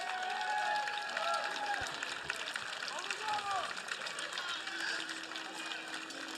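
Dense crowd murmur at a world championship event, packed stands and rows of spectators at the rail creating a continuous wash of voices and scattered shouts, with a commentator talking over it.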